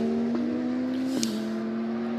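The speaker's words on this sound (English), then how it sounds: "So here comes the number 22 BMW through the hairpin." A BMW race car rounds a hairpin during the Hankook 12 Hours of Kuwait 2023 endurance race, its engine a steady, sustained drone with a brief pitch dip midway, heard alone without commentary.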